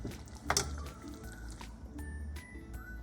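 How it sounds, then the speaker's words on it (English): Coconut milk is poured into a pot of Thai red curry with pumpkin, zucchini and kaffir lime leaf, making soft close squishes and drips with a small liquid splash. "at the same time, I'm going to put coconut milk"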